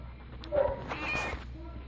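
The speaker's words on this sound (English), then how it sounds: "I got kitties all over me." Several pet cats in a cat room meow close by, with one short high meow followed by a longer, wavering cry over a quiet indoor background.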